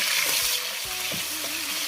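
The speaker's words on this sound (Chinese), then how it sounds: "然后再把瘦肉丁放进来给它炒一下。" Diced lean pork stir-fried in hot oil in a wok, a loud continuous sizzle with a few spatula scrapes and clacks, close up and steady, no speech.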